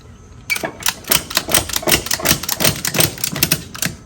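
Rapid run of clicking ratchet strokes, a ratchet strap on a trailer's E-track being cranked tight in quick repeated pulls, close and crisp.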